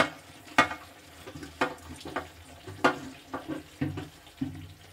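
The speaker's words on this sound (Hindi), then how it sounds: "अब इसमें सूखा नारियल डाल देंगे चाशनी में।" Dry coconut being stirred into sugar syrup in a pan for coconut barfi: irregular scraping and clacking strokes of a spoon against the pan, with a soft bubbling sizzle underneath, close and moderately loud.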